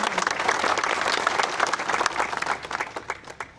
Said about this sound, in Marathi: मोठे टाळ्या वाजवून त्याचे आम्ही आभार मानते